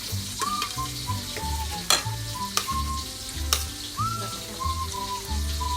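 Tilapia tails fry steadily in hot oil, a constant loud sizzle with occasional utensil clinks and scrapes, while a melodic background tune plays.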